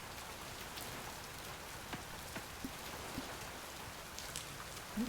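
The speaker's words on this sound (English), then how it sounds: "Sleeping in the rain, but sleeping nonetheless." Steady rain falling in the Oceaneers survival game on a floating island, a soft even hiss of drops with a few faint louder patters scattered through, no talking.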